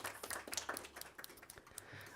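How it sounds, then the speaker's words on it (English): A scattered round of applause in a state Senate health and human services committee hearing room, a few hands clapping unevenly and fairly quietly for about two seconds, with a low steady hum beneath. "and so if we could just give them a round of applause."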